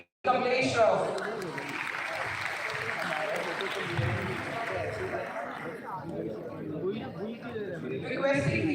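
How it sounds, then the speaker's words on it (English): Audience applause for a speaker at a business conference, a sustained crowd clapping mixed with murmuring voices that continues steadily, fading slightly before rising again at the end. "Ladies and gentlemen, a huge round of applause for Shri Kamlesh Shroff."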